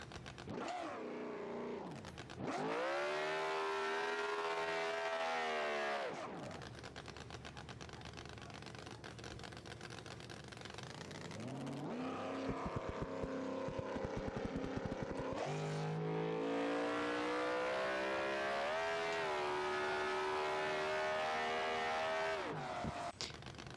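An outlaw small-tire drag car in BeamNG.drive, its engine revving hard in long rising and falling bursts with tires spinning, separated by quieter idling gaps, loud and close with no talk.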